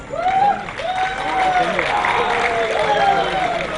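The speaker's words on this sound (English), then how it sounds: "So I request everyone to please extend a huge round of applause." A crowd at the Tech Global Summit in Visakhapatnam applauds an MOU exchange, a steady wash of clapping running beneath a voice speaking over it.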